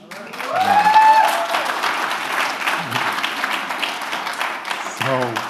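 Audience applause at a political event, a moderate patter of clapping running throughout while people talk over it, with brief voices rising at the start and near the end.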